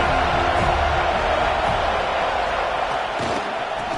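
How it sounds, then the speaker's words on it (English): A steady, dense stadium crowd roar in a College Football 25 game, loud and continuous throughout with no clear breaks, a broad wash of massed voices filling the whole stretch. "This crowd ready to make its presence known."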